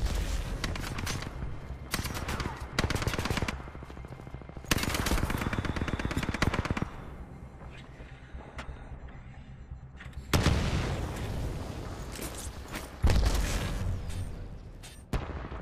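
Gunfire rattles through a Titanfall 2 gunfight, loud bursts of automatic fire and heavy booming shots in clustered volleys with short lulls between them.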